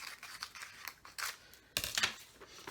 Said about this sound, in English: So I'm going to cut it to fit.